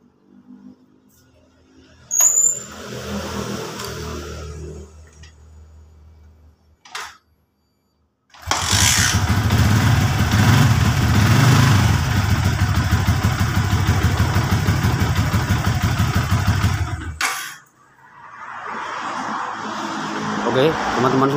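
A Yamaha Vixion motorcycle with a faulty starter is fired up and idles loudly with a steady, throbbing engine pulse for about nine seconds before shutting off, with quieter handling noises around it.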